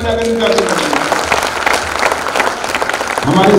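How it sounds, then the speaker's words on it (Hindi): Loud applause from an audience at a rural India awards ceremony, dense clapping sustained for several seconds with a voice talking over it near the end. "तो जोरदार ताली बजाकर जाते हैं"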